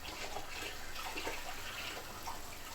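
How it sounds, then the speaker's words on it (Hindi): Jalebi batter deep-frying in hot oil gives a steady, even bubbling hiss that stays at constant moderate loudness throughout. "अब हम आराम से एहतियात के साथ जलेबियाँ इसमें डालेंगे।"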